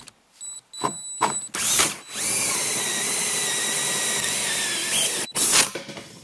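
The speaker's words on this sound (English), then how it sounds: "we're just going to go ahead and drill our hole here" A power drill cuts a 4-inch hole in a gray water tank: a few short whirring bursts, then a sustained loud, close grinding whine for about three seconds before it stops, with no speech.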